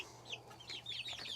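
White leghorn chickens on a farm clucking softly, a few short close calls scattered over a quiet background with a low steady hum.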